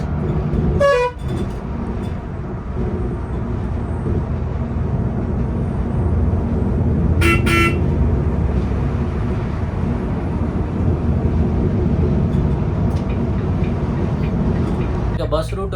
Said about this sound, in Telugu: ఇదే బస్సులో మనం జర్నీ అనేది చేస్తున్నాం